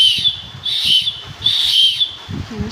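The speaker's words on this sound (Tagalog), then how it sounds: "yun po yung tunog ng kanyang whistle" Shrill whistle of an LED rechargeable keychain blown in three pulses of roughly half a second each, close and piercing over faint low rumbling background.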